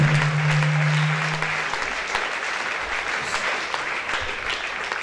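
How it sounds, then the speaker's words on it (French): A church congregation claps and cheers for Jesus during a testimony service, a dense wave of applause that starts loud over a held organ or keyboard note, then settles into steady clapping with scattered shouts. "Acclamez très fort pour Jésus"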